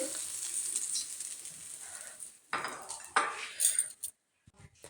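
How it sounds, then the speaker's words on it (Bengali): Cardamom and two dried red chillies hit hot oil in a pan, giving a sharp hissing sizzle that fades, then a few clinks and scrapes of a utensil before it briefly goes quiet. "এখানে ফোড়ন দিচ্ছিলাম আমি একটু গরম মশলা আর দুটো শুকনো লঙ্কা"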